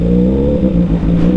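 A Kawasaki Z250 motorcycle revs and accelerates on a night ride, its engine loud and close with a steady droning whine throughout.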